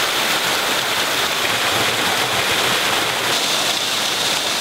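A waterfall roars as a dense, constant, loud rush of falling water, with no pauses or voices over it.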